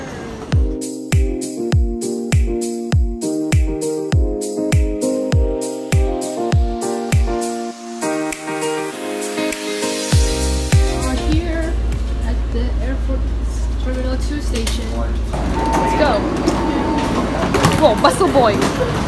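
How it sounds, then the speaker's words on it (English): A train arrives at busy Taoyuan Station: a rhythmic series of tonal chimes plays first, then a loud, low rumbling roar builds and carries on to the end. "Our train is here."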